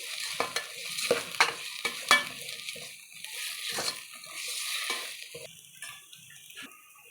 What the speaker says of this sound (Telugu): పచ్చి వాసన పట్టు అల్లం వెల్లుల్లి పేస్ట్ వేయించుకోవాలి